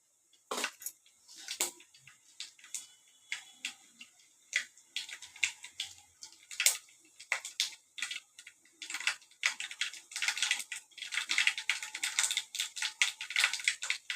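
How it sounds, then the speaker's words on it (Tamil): Mustard seeds crackle and splutter in hot oil in a pan while tempering a brinjal dish, a dense run of sharp, irregular pops that grows busier toward the end, with no talking. "கடுகு நல்லா பொரிஞ்சு வரட்டும்."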